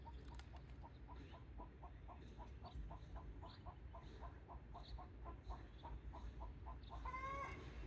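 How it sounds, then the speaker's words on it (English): A hen laying an egg gives a steady run of quick, evenly spaced clucks from a short distance, faint over constant outdoor background noise, ending in a rising squawk. "That noise is a chicken laying an egg."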